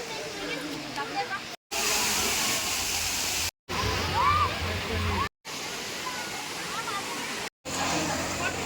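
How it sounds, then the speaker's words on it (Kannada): Thirparappu waterfalls roar in a steady, dense rush of falling water, broken by a few short gaps, with faint crowd chatter mixed in. "ನಾವಿವಾಗ ತಿರುಪರಾಪು ವಾಟರ್ ಫಾಲ್ಸಲ್ಲಿದ್ದೇವೆ"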